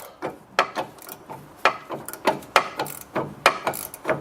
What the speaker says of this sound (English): And we're slowly removing that nut.